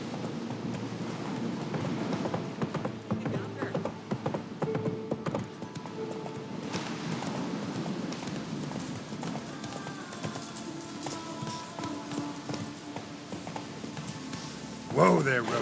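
Roach the horse gallops in The Witcher 3, a steady rhythmic clip-clop of hooves running on and on, with someone talking over it and a brief louder burst near the end.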